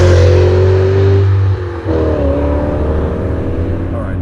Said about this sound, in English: I love how this engine feels when you rev it out